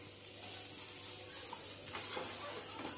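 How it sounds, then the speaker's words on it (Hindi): Curry leaves dropped into a pan of lightly fried onions for an oats idli tempering, giving a soft, steady sizzle and spatter with faint stirring, fairly quiet and with no talk. "प्याज को हल्का सेकने के बाद अब हम इसमें कड़ी पत्ता डालेंगे।"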